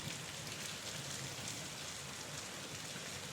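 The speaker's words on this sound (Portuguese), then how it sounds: "Se você está gostando dessa atmosfera sombria ao som da chuva" Steady rain falls and patters on surfaces, a dense, even hiss with no pauses, moderately loud and close throughout.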